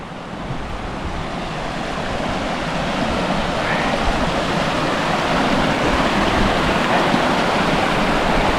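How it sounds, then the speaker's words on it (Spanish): Steady rushing water of the Guadalevín River with no breaks, loud and close, a continuous broad wash of flowing current. "Bueno, pues este es el río que hay que cruzar."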